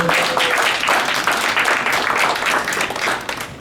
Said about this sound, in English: Can we give the organizers a round of applause, please?